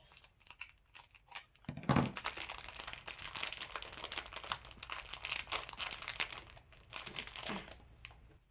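Crinkling and tearing as a firmly taped craft package is pulled open by hand, with close, irregular rustles and rips continuing for several seconds without speech.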